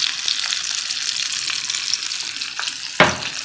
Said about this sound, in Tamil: இதை அப்படியே லைட்டாக ஃப்ரை பண்ணிடுங்க